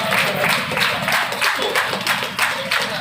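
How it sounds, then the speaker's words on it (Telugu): An audience claps at a retirement ceremony for a Greater Hyderabad RTC executive director, a steady rhythmic round of applause with a low murmur of voices underneath. "చప్పట్లు గట్టిగా చెప్పండి"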